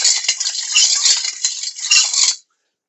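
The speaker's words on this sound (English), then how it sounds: "go fancy and use a food mill like this" A hand-cranked food mill mashing potatoes: its blade is spun to press them through a perforated plate. It makes a continuous metallic scraping and grinding for about two seconds, then stops. No one speaks.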